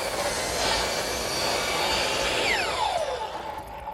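A compound miter saw cuts a roof trim piece with a loud, sustained high whine, then a descending tone as the blade spins down near the end.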